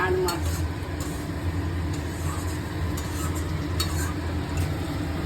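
Fish fries and is stirred in a pan in a home kitchen, a constant sizzle with occasional scraping taps, while people talk nearby.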